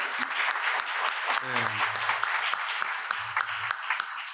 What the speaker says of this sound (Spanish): Así que también les pido un aplauso para ellas.